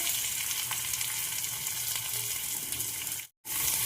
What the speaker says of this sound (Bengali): তো এবার এই পেঁয়াজটা এর মধ্যে তেলের মধ্যে দিয়ে দেবো।